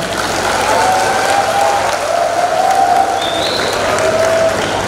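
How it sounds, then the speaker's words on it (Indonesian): Audience applause at a community digital-literacy event in Semarang: a steady, dense clapping from a crowd that holds for the whole stretch at full strength, with no pause. "Aplaus buat Anda semuanya."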